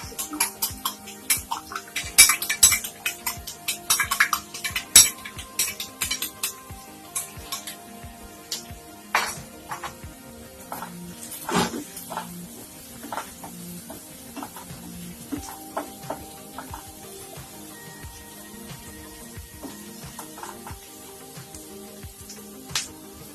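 Onions frying over high heat for egg bhurji: a steady sizzle with frequent ticking spatters and occasional utensil clinks, busier at first and then settling to a quieter crackle.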